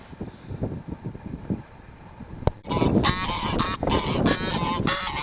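Geese honking at a lake, a loud cluster of overlapping honks bursting in halfway through after softer birdcalls and wind, continuing close and insistent to the end.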